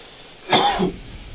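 A single cough bursts out after a quiet moment, short and fairly loud, trailing off into a brief softer tail near a microphone indoors.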